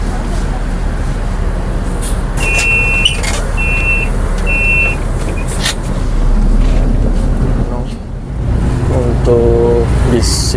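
A Transjakarta City Line 2 bus with a Laksana body on a Scania K250IB chassis rumbles nearby amid traffic, with a few short electronic beeps sounding near the start and voices around it.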